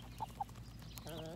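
Two short, soft clucks from a chicken close by, followed by a quiet run of low chatter-like bird sounds over faint background noise.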